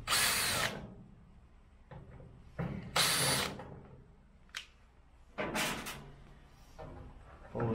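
A power drill backs out screws holding the controller of a Cuisinart Woodcreek pellet grill, with several close, loud whirring bursts of about a second each, separated by quiet pauses and small handling clicks.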